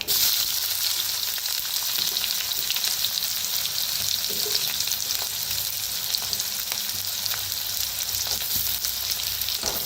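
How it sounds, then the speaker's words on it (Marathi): Chopped onion sizzles steadily in a hot pan over cumin and mustard seeds, a dense, even crackle of frying that holds without pause, close and fairly loud, with no voices. "कांद्याला भाजून घेऊया।"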